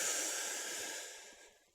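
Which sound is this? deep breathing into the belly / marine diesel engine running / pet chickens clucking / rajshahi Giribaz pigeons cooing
deep breathing into the belly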